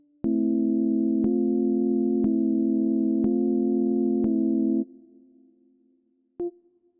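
A steady Synthstrom Deluge synthesizer tone with vibrato holds for several seconds with a wavering pitch and faint repeating delay echoes, then cuts off, followed by a brief blip.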